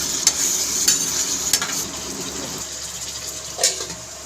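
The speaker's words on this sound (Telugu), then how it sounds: "అల్లం వెల్లుల్లి పేస్ట్ని అయితే యాడ్ చేసి ఒకసారి మళ్ళీ తిప్పి వీటిని మరి కొద్దిసేపు ఉడకనిద్దాం" Quail meat coated in ginger garlic paste sizzles and bubbles in a pot, with a few scraping stirs of a spoon over a steady, moist cooking hiss.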